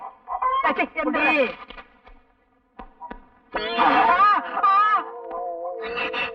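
Chickens cluck in a rural Tamil film scene, several short throaty calls rising and falling close by, broken by a brief lull, with voices talking between them.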